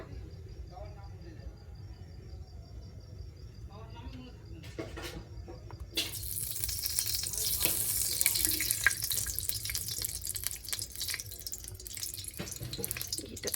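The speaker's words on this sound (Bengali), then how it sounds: "কড়াই গরম হয়ে গেছে এবার ঘি দিয়ে দেব" Ghee goes into a hot kadai and sets off a bright, hissing sizzle that starts suddenly partway through and keeps going steadily, fairly quiet and close. Faint kitchen sounds come before it.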